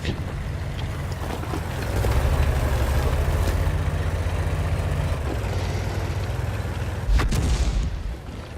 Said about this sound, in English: Artillery's doing well in guessing where I am.